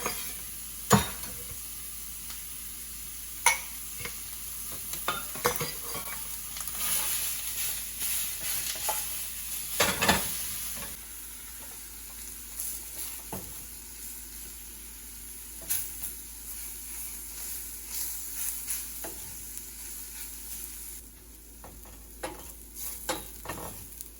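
Ingredients saute in a little oil in a pan over a medium flame, giving a steady, soft sizzle broken by the scrape and clink of stirring.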